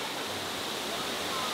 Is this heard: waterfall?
yes